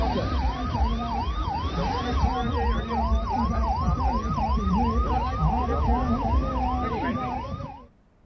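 Several ambulances flagged off together sound their sirens at once, overlapping wailing sweeps that rise and fall in a fast steady cycle, loud and close, with a low engine rumble beneath until the sound cuts off.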